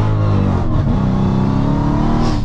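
A 914 bhp Dodge Hellcat roars loudly under throttle from inside the car, the engine note rising and wavering as revs climb, with no talking over it.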